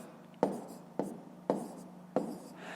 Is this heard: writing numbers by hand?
yes